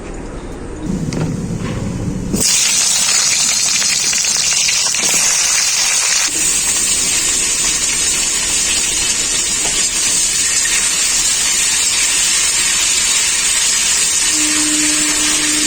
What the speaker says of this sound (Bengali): লবণ হালকা করে আলু আর সিমটাকে আমি ভেজে নেব